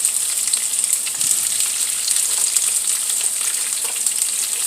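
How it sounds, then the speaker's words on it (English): Sliced small zucchini and other vegetables sizzle in a hot pan as they sauté, a loud, steady frying hiss that continues without a break and has no voices over it. "Okay, I'm going to throw these veggies in the pan."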